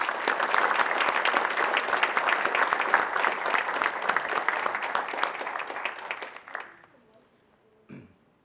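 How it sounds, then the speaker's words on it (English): A crowd at a historical society meeting breaks into sustained applause, a dense, even patter of many hands that fades out near the end, followed by a brief voice. "join me in giving them a well-deserved round of applause"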